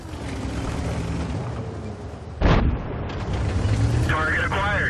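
A single heavy artillery shell from an enemy SPG explodes in World of Tanks, a short, deep boom over continuous engine rumble and battlefield noise, with a voice talking throughout.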